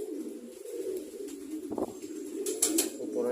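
Pigeons coo in a steady, low, droning murmur that carries through the whole stretch, with a few brief rustles and a short brighter burst near the end.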